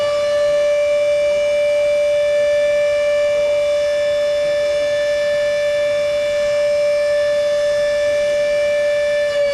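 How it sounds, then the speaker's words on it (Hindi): A steady civil-defense siren at the Kota Barrage dam wails at one sustained pitch throughout, loud and unbroken, with no voices, as floodgates release water. "अभी सायरन बजा है"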